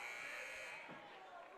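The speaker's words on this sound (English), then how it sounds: "And we've got a buzzer here." A substitution buzzer sounds at a girls' high school basketball game in a gym, a steady electronic tone that fades out partway through, with faint crowd and arena noise beneath it.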